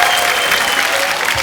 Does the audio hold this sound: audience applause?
yes